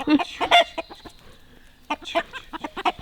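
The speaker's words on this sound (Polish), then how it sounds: "Hej, kogut! Ty kogut! Broni kury!" A rooster defending its hens gives short, sharp clucks in quick bursts, close by, with a brief quiet pause between flurries.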